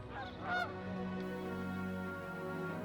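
Canada geese honking in a wintering flock near Lethbridge farmland, a burst of loud overlapping calls early on, then a steady background din of many birds.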